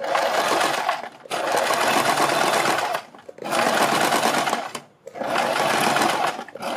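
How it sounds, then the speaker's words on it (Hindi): An electric sewing machine stitches a kurti neckline alongside buckram in three steady, rapid bursts of whirring needle clatter separated by brief pauses, up close and loud, with a single brief spoken word. "बुकरम के बराबर में ये सिलाई हमें लगानी है।"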